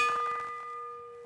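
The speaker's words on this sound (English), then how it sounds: "We're going to hear the bell on the next lap." A single lap bell rings at a track cycling Madison race, a sustained metallic ding with a clear ringing tone that fades away slowly, alone and moderately loud.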